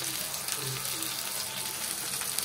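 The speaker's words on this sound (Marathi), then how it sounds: "तर बाकीचेही आपण सर्व पीस तळून घेऊया" Pieces of bombil (Bombay duck) fish fry in plenty of hot oil, giving a steady, close crackling sizzle that holds at an even level throughout, with no one talking.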